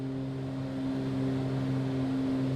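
The twin piston engines of a Black Square Baron in a flight simulator drone with a steady, even hum, sustained and moderately quiet at a constant pitch throughout, with no talk.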